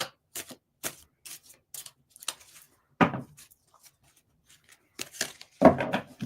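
Tarot cards being shuffled clumsily at a desk, heard as sparse, crisp riffles and flicks with quiet gaps between them, plus a few louder slaps as the deck is squared.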